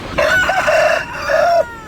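A loud, close aseel rooster for sale at a market lets out a single full crow with a drawn-out final note, with no other noise behind it.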